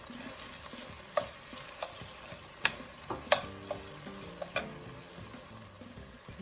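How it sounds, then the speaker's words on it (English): Green onions sautéing with garlic in a pan for chicken and dumplings, a quiet low sizzle with scattered light taps and clicks of a utensil, no speech. "I'm gonna add these green onions. I'm gonna let them saute for 2 or 3 minutes."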